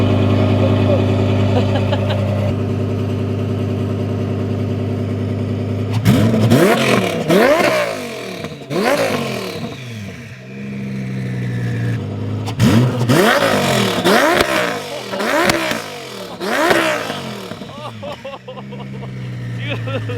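Turbocharged 1300 HP Audi R8 engine idling with a steady low drone, then revved in several sharp rising bursts that climb and fall back, loud and close, with people talking around it.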